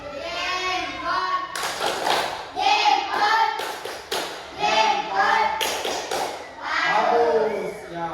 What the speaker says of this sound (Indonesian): tepuk jempol dulu untuk kedua kelompok